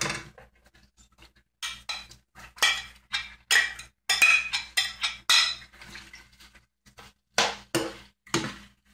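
Chopped onions being stirred in a cooking pot, a string of clinking, scraping strokes of a utensil against the pot coming in bursts with short pauses, close and fairly loud.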